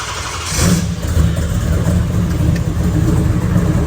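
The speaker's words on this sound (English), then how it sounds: "How about a cold start on Dentley?" A car engine cold-starting, catching quickly and settling into a loud, steady rumbling idle at close range, with no talk.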